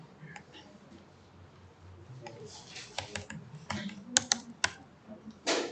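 Computer keyboard typing starts with scattered soft taps, then builds into clusters of sharper, louder key clicks and clacks near the end.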